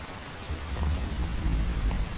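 Steady rain in the video game Metal Gear Solid 3: Snake Eater pours down with deep rumbling thunder rolling beneath it, a dense, continuous wash of noise with no talking.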